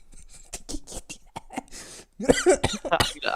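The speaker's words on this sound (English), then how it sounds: "I'm just clearing my throat." Several short, rough throat-clearing bursts close by, broken by brief pauses, then a denser, louder cluster of harsh clearing sounds toward the end.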